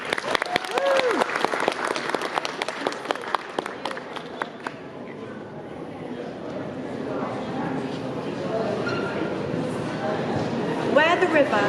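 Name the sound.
audience applause for a poet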